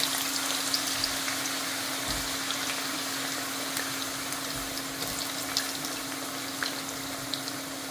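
Potatoes sizzle and crackle in hot oil, a steady frying hiss with small pops throughout, close by and without talk.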